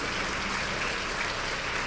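A church congregation applauds during a Portuguese-language worship service, a steady, dense wash of many hands clapping alone for about two seconds with no voices.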